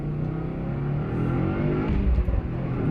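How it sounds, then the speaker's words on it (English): Car accelerating hard with a deep, throaty exhaust rumble, close and steady, with a few brief crackles and pops near the end as the engine note shifts; no talking. "Oh, that was a good crackle pop."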